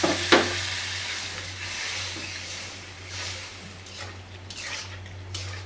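Snakehead fish pieces frying in spice paste cooked down with green chillies, a steady sizzle with stirring and a short utensil clatter at the start, over a low electrical hum.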